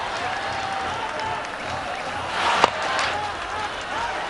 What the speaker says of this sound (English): just listen to that crowd, the Dhaka supporters